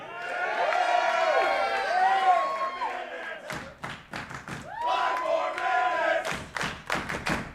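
Crowd at a wrestling event cheering and chanting after a match ends in a draw, loud rhythmic voices rising together, broken by sharp bursts of clapping and thumps toward the end.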